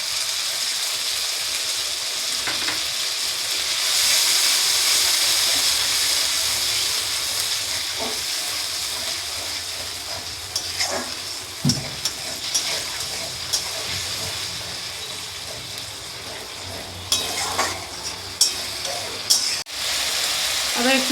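Beaten yogurt goes into a hot frying pan for doi katla fish curry, giving a loud hissing sizzle that settles into steady bubbling with occasional stirring clinks and scrapes.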